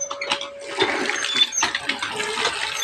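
Water swishes and splashes in irregular bursts with small clinks as rice is rinsed by hand in a pot, close by.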